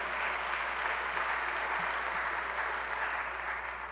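Applause from a large audience at the State of the City University of New York address, a steady, fairly faint wash of clapping that lasts throughout.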